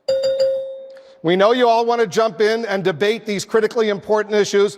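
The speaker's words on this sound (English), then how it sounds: "and as the candidates requested, a bell will sound like this." A debate timing bell rings once, a clear sustained tone alone at the start of a Republican presidential candidate debate, fading before a moderator begins speaking.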